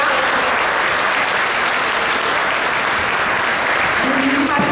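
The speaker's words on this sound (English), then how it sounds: "I think we can clap" Audience applause at a Radhastami lecture at ISKCON Toronto, a dense, loud wash of many hands clapping continuously throughout, with a voice briefly audible near the end.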